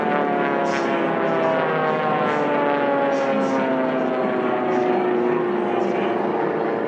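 Racing airplanes at the 2019 National Championship Air Races, a steady loud engine drone with shifting harmonic tones as planes battle past, continuous throughout with faint commentary-like voices underneath.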